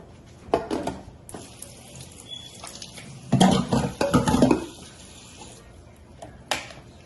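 Vegetables are washed in water, giving intermittent splashes, sloshing and running-water noise in uneven bursts, close by, with a few quieter gaps between them.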